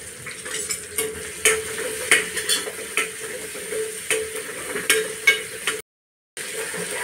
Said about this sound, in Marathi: आता मी अर्धा चमचा आलं लसणाची पेस्ट टाकते।